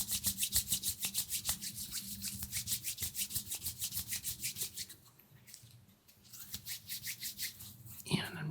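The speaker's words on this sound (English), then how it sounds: "So I'm just going to go ahead and rub this in." Gloved hands rub a product in during an ASMR energy-healing session, making a close, steady run of rhythmic swishing strokes that pause briefly midway, then resume with soft rustles.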